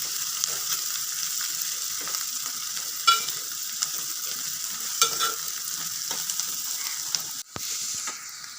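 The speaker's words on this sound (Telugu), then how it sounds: "ఇవి ఫ్రై చేసుకున్న కాకరకాయలు వేసుకుందామండి. ఇలా కాసేపు కలుపుకుందాము." Fried bitter gourd pieces are stirred in a pan with soft steady sizzling underneath, and a few scraping and clinking stirs land close by.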